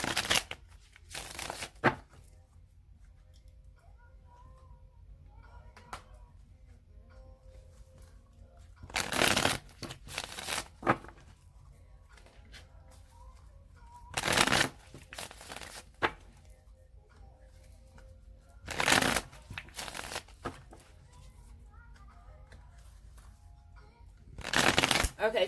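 A deck of cards is riffled in four separate brisk bursts, each a short fluttering rattle, with quiet pauses between them.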